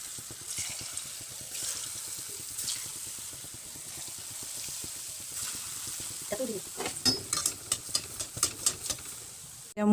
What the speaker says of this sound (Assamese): এয়া এতিয়া মোৰ তেল গৰম হৈ গৈছে আৰু এতিয়া মই এটা এটাকৈ পিঠাখিনি ভাজি লম।